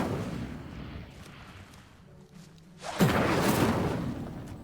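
A whooshing burst of flame erupts from the Incendio fire spell in Hogwarts Legacy, arriving suddenly as a loud roaring blast after a quieter stretch of ambient game sound.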